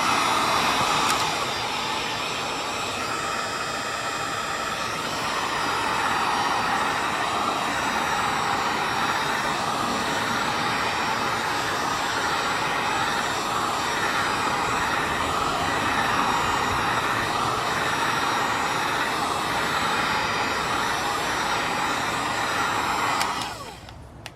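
A heat gun warms adhesive tape on a pedal cover from a Toyota RAV4 XA50 pedal kit, blowing a loud, steady whooshing hum without a break for about twenty-four seconds, then cutting off at the end.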